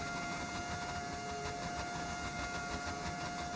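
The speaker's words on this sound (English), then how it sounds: "I've got a mod that changes the engine to a V10." A modded V10 Formula 1 engine in F1 25 holds a steady, dense whine with strong sustained tonal harmonics, droning continuously at even loudness throughout with no talk.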